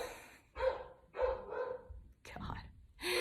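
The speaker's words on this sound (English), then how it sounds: "I'm seeing the UPS truck pull up and my dog's going crazy downstairs" A dog barks excitedly downstairs as a UPS delivery truck pulls up, several loud bursts spread across the moment, mixed in with a soft whispery voice.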